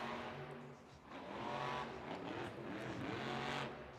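The Zombie monster truck roars around a Monster Jam arena at Belmont Park, New York, its engine surging and easing in sustained loud revs.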